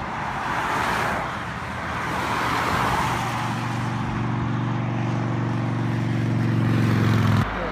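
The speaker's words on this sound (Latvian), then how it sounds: "Tad mašīna brauc garām" A car drives past on a gravel road along a Latvian cycling trail, a broad rumbling wash that swells and holds steadily close by before cutting off abruptly near the end.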